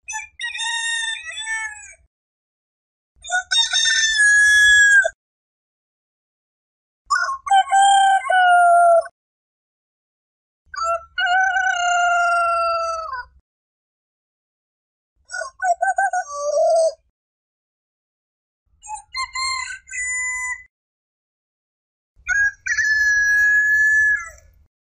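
A rooster crows repeatedly, seven loud, clear cock-a-doodle-doo calls spaced a few seconds apart with brief silences between them, close and alone.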